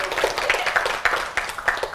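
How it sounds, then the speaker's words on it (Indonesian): A small indoor audience at a business school session claps hands in a brief, uneven patter of close claps, with no speech over it. "Tepuk tangan."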